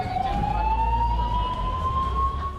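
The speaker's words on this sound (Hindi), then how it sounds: "देखते ही देखते पूरा इलाका सायरनों की आवाज से गूंज उठा।" A siren wails steadily with a slowly rising tone over a deep rumble of traffic, loud and continuous throughout.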